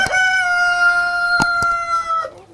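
A Black Australorp rooster crows once, loud and close, in a long sustained call at a caged egg-laying flock, with a couple of sharp clucks or knocks partway through.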